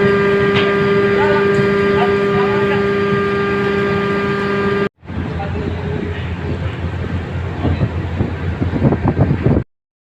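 Tugboat engine droning steadily while it pushes at a ship's bow during berthing at a port, a loud continuous low rumble with wind buffeting the microphone, broken by a brief cut midway before the engine noise resumes rougher and busier.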